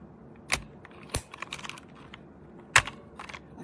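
Keys on a DIERYA T68SE 60% mechanical keyboard with brown switches give a few sharp, close clacks spaced irregularly, with lighter taps between them and a quiet background.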